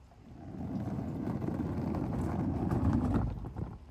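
An R2-D2 replica fitted with a Home Depot wheel kit rolls outdoors, making a continuous low rumbling and rattling of wheels on hard ground that swells and fades over a few seconds.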